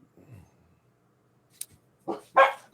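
Dogs at home give a few short, close barks and yips near the end, following a long quiet stretch with a faint voice and a brief sharp click.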